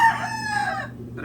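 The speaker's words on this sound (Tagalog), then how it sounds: "Ang ingay ng mga manok ko." Chickens crow loudly and nearby with drawn-out calls, followed by a brief cluck at the end, heard alone without talk.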